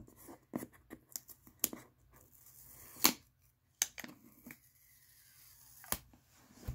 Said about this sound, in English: Man, they got some good tape on here. Okay, let's peel it back,